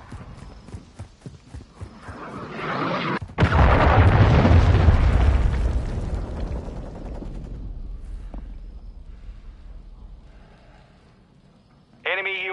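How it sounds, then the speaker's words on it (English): A cruise missile strike in a Call of Duty free-for-all match: a sharp, loud blast followed by a heavy rolling rumble that fades over several seconds, with earlier rapid clattering and a brief crack near the end. "Hostile cruise missile incoming."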